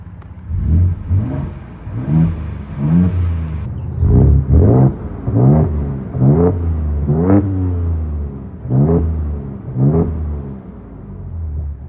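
Ford Ranger Raptor engine revved while parked in Baja off-road mode, kept under 3,000 rpm: a series of about a dozen loud, close blips, each rising quickly and dropping back to a rumbling idle, with no voices.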